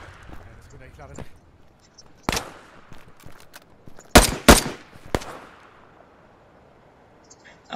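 Video game gunfire sounds in a few sharp bursts, with a loud double volley near the middle and single shots around it, while people talk over and between them.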